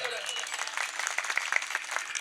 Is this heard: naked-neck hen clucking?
no